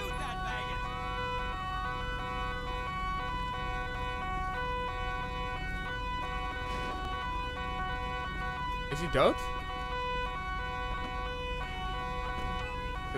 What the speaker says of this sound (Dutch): Ik in ieder geval even mijn sirenes uit.